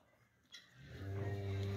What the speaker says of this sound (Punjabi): ਸਾਈਵਾਲ ਕਰਾਸ ਦੀ ਜਿਹੜੀ ਇਹ ਵੱਛੀ ਤੁਸੀਂ ਵੇਖ ਰਹੇ ਹੋ